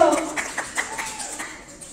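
Audience at a Christmas party clapping in a short burst of scattered applause, fading over two seconds while a voice speaks on top.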